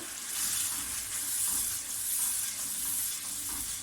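Tomato paste masala sizzles and fries steadily in a kadai, a continuous close crackling hiss with faint stirring, part of a fish biryani preparation.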